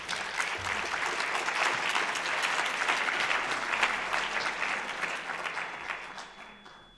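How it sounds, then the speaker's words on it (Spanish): Audience applause welcoming a speaker to the stage at a school year closing ceremony, sustained even clapping from a large crowd for several seconds, tapering off at the end. "Le vamos a animar con un aplauso a que se acerque a este estrado."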